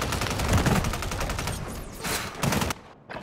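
Call of Duty gunfire rattles in rapid automatic bursts, loud and close, then cuts to a short quieter gap before a final shot.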